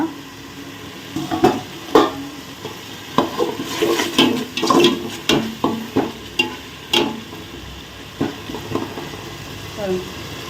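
Ginger garlic paste being stir-fried in a pan for vegetable biryani, with repeated scraping strokes of a spoon over steady close sizzling across the whole stretch.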